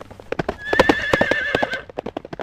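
Several horses gallop with a steady clip-clop of hooves while one neighs loudly and shrilly through the middle, heard close and with no talk. The horses belonged to a nineteenth-century expedition across outback Australia.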